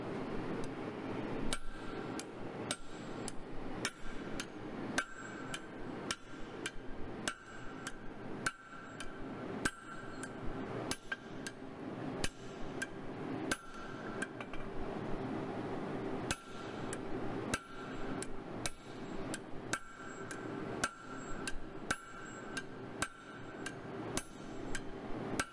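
Blacksmith hammer blows strike a flatter on a hot steel workpiece being forged into a chisel in a smithy shop: a steady series of sharp, ringing metallic clanks at a regular rhythm with brief pauses, close and clear, no talking.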